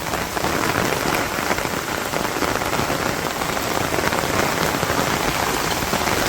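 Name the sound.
rain falling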